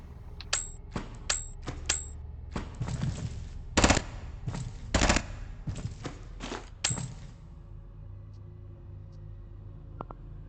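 Submachine gun fire in the turn-based game Quasimorphosis: a series of sharp, separate shot bursts with metallic pings, irregularly spaced over a steady low hum, fading to quiet near the end.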